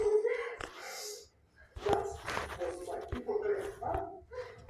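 Several dogs barking and yipping in short bursts close by, mixed with whimpers and a person's voice talking among them, moderately loud with brief quiet gaps.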